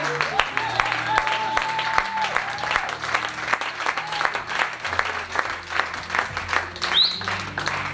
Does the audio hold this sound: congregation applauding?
yes